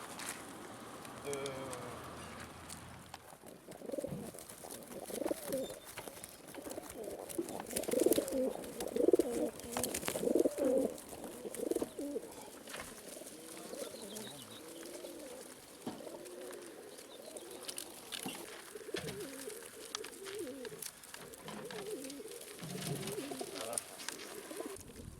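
Racing pigeons coo repeatedly in a loft at a pigeon-fanciers' club gathering in Fontenay, Oise, with soft overlapping coos and rustling, while people talk nearby throughout.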